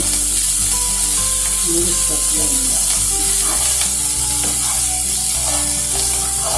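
Ground coriander, salt and other spices frying and being stirred in a hot pan for an egg and cauliflower dish, a loud, continuous close sizzle with steady stirring and faint background music.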